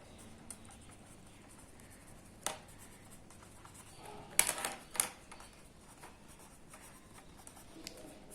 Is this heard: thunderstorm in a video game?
no